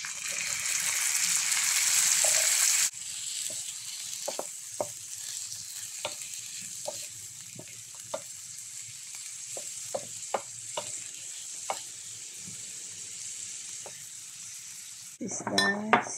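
Carrots and corn sizzle in butter in a pan while a utensil stirs and scrapes, a steady hiss with a louder sizzle at the start, many sharp metallic taps, and a clatter at the end.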